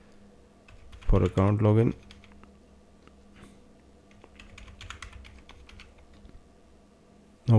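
Keyboard typing as a password is entered on a computer during a Check Point R82 firewall install in VMware, soft scattered clicks following a short stretch of speech, faint and close.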